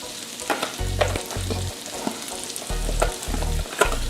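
Seasoned orange roughy stirred in a frying pan, a close, steady sizzle with repeated scraping and clunking of the utensil against the pan in a loose rhythm.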